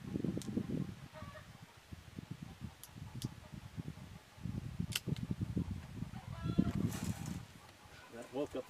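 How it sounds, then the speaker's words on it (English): Chickens and a rooster cluck and squawk in uneven bursts after gunfire from a Colt Python .357 Magnum revolver, with people talking quietly over the birds. "That woke up the chickens."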